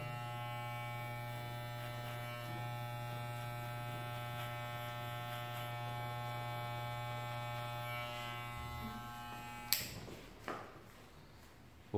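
Electric hair clippers buzz steadily with a strong tonal hum while cutting a fade, close and constant, then switch off near the end with a couple of clicks.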